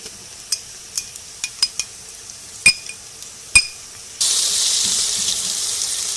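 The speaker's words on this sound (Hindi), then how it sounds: "अब इसमें जाएगा अदरक लहसुन और हरी मिर्चें कुटी हुई।" Several light spoon clinks against a cooking pot come first, then crushed ginger, garlic and green chillies hit light-golden frying onions with a sudden, steady hiss of sizzling oil that continues to the end.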